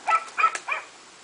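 An electronic Bandai Sailor Moon SuperS Elementary Kanji teacher toy plays a recorded dog bark: three quick, bright yaps close up, followed by quiet.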